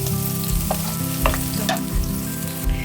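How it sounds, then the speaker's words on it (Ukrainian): Garlic sizzles and crackles steadily in a hot pan, close up, with occasional stirring clinks and a low background hum, no talking. "у нас смажиться чесничок"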